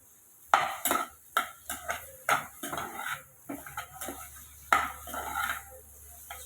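Mushrooms cooking in a pan, with a spatula clanking and scraping against the metal in irregular bursts and a faint sizzle underneath, close by and with no talking.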